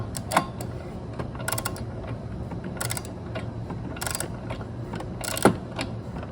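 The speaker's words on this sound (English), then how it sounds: "you heard the click, I do recommend using a torque wrench for spark plugs" A ratcheting torque wrench set to 14 pound-feet tightens a spark plug on a lawn mower: quiet, close repeated ratchet clicks in short bursts, ending with a sharper click at the torque setting.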